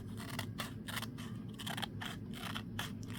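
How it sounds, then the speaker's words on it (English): Scissors snip across a page of a small card journal in a quick series of close, crisp cuts, about a dozen short crunching strokes. "I'm going to take my scissors and just cut it across"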